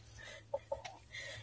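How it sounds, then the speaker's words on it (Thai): A brooding hen sitting on eggs in a coop on a small farm gives a few soft, low clucks in a quick cluster, faint and close against a quiet background. "แม่ไก่มันฟักอยู่นะคะในนี้"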